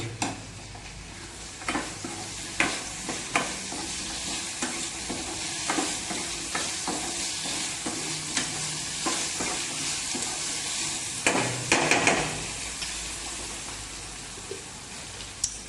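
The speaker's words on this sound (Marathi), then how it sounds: "आता हे जरा असं भाजून घेऊ" Vegetables roast in a hot pan with a continuous low sizzle, broken by repeated scraping and clinking strokes of a spoon stirring against the metal, close up and with no one talking.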